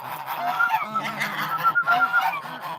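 A flock of geese honks loudly and repeatedly, overlapping calls in a noisy chorus close by.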